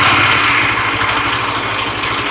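Bajaj Dominar 400 motorcycle sits at idle, its exhaust putting out a steady, even low thrum with a fast regular pulse, close and continuous with no talk.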